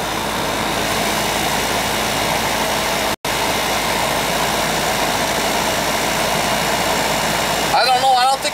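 A hacked home air conditioning system starts up and runs with a steady, loud mechanical drone like an idling engine, a brief dropout near the middle, and a rougher burst of handling noise at the end.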